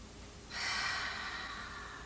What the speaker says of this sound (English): One more breath here.